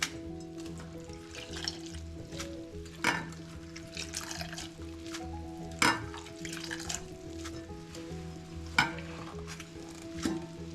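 Washed bitter gourd sizzles in a Kerala-style cheenachatti pan for thoran, a gentle steady frying hiss broken by a few sharper stirring scrapes, close but quiet, with no speech.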